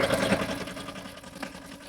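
A small tractor works between rows of sprouted cotton in a village field. It makes a close, steady, rattling mechanical drone with a fast rhythmic chatter.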